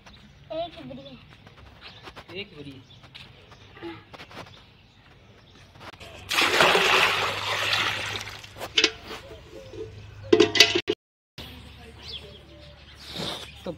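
Water gushes into two buckets outdoors in a loud rushing burst lasting a couple of seconds, with brief splashes after it, amid talking voices and bird chirps in the background.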